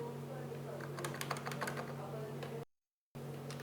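Quick, steady typing on a computer keyboard as a command is entered for a Django project, with soft clustered key clicks over a low constant hum and no speech.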